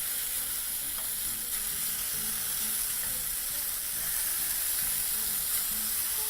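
Pork mignonette fillets frying in a pan, a steady loud sizzle and hiss with no breaks, heard close up and alone.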